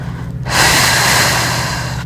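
A long, deep breath drawn during a guided full moon meditation, with the body curled up and knees held to the chest; one sustained, airy inhale or exhale, close and fairly loud, with no talking.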